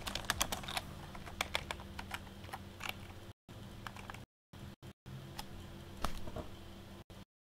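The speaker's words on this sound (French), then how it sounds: "faut que je prenne le clavier pour le répondre dans le chat du jeu" Typing on a computer keyboard to answer in a Minecraft game chat: quick irregular bursts of clicky keystrokes, close but fairly quiet, with a few brief gaps, over a faint steady background hum and no talking.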